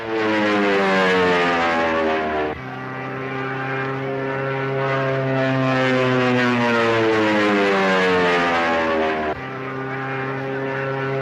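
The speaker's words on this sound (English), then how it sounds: "His plane is out of control." A propeller plane spins out of control in a tailspin, its engine a loud, continuous droning roar with shifting pitch that swells and wavers throughout.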